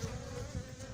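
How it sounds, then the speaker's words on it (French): Dense buzzing of many honeybees crowded on a comb, a steady close hum filling the second with no pauses or voices. "Il y a énormément d'abeilles sur ce rayon."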